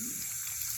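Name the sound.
dirty water pouring out while cleaning evap system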